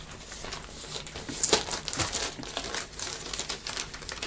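A plastic sleeve on a 45 RPM vinyl single is handled and crinkled close up, giving irregular rustling bursts and soft crackles over a few seconds.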